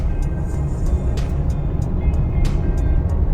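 Ford Explorer engine running while driving, a broad low rumble of road and engine noise with faint brief bursts where gears shift, steady and near throughout.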